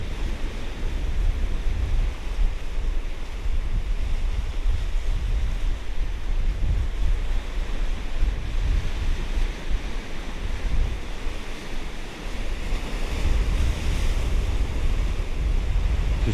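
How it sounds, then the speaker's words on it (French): Ocean waves roll and wash continuously, a broad rushing roar with gusts of wind buffeting the microphone, on the Brittany coast between Lorient and Guidel. "J'espère que vous entendez le bruit des vagues"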